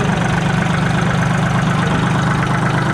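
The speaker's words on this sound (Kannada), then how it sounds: "ಪುಟಾಣಿ ಟ್ರ್ಯಾಕ್ಟರ್ ನೋಡಿ ಸೈಲೆನ್ಸರ್ ಇದೆ ಇದಕ್ಕೆ" A small tractor fitted with a silencer idles steadily at an agricultural fair, its low, even engine rumble running continuously and close without a break.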